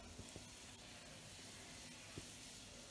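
Garlic, butter and herbs sizzle steadily in a hot pan, a close, even frying hiss with a few soft pops and no voices.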